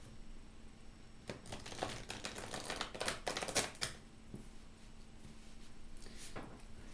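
Soft riffling and flapping of tarot cards being shuffled, a dense flurry of crisp clicks in the middle with a few lighter shuffles after, close and quiet.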